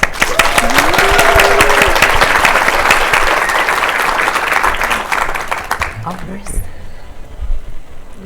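Audience at a community animal shelter partnership event applauding to welcome three speakers onto a stage, loud sustained clapping from a full room that tapers off after about six seconds, followed by a few murmurs.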